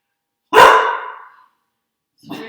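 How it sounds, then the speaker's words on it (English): A single loud dog bark rings out close by and trails off, followed after a pause by the start of another bark. "Sorry about my alarm dog."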